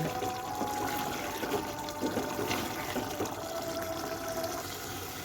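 Broth poured into a pan of potatoes for a katla fish curry, a steady, continuous liquid rush and wash close by, with no voices.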